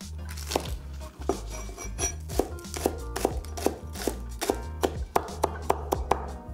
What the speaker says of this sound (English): To start, we'll dice up a piece of green onion.